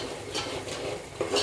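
Vegetable masala frying in a pan for chicken dalcha: a soft, close sizzle with a few light stirring and spoon scrapes against the pan, quiet and without any talking.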